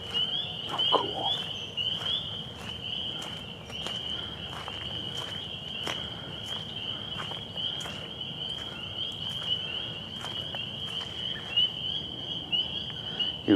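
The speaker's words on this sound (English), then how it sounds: "Hear all those toads." Toads call steadily near standing water left by heavy rain, a sustained high trill running throughout with scattered rustling and footsteps crunching close by.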